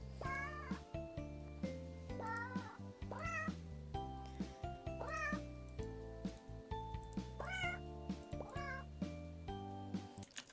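Cats meowing repeatedly, a series of rising and falling meows in quick succession over a quiet backdrop, fairly close and clear.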